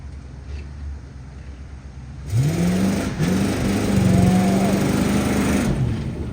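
A fuel-injected truck engine starts up partway through and revs, rising and falling in pitch, loud and close, with a steady idle rumble underneath.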